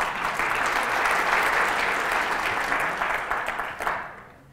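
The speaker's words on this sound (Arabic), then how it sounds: "صح اجابته، صفقوا له" An audience at a cybersecurity talk claps loudly and steadily for about four seconds, with the applause thinning into scattered claps before it fades out.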